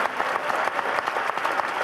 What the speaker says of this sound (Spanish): Merecéis un aplauso.